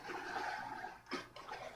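Water flows from a small endless fountain in Minecraft StoneBlock 2, a faint watery rush with a brief swell partway through and no talking.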